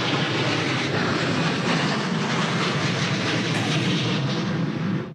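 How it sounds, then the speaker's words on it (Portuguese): Airplanes pass overhead near a reflecting pool, a loud, continuous roaring engine rumble that fills the whole stretch and cuts off abruptly at the end. "Aviões que passavam naquele momento interrompiam as entrevistas."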